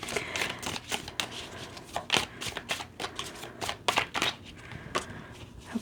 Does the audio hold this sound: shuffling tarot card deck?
yes